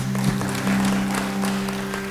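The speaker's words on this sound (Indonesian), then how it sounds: "Beri tepuk tangan bagi dia." Applause from a church congregation fills the whole stretch, steady clapping over a low sustained musical tone.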